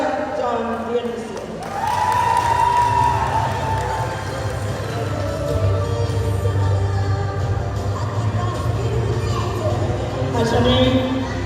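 Crowd at a Garifuna radio station event cheering and shouting, children's voices among them, a sustained roar lasting several seconds alongside an announcer speaking over it.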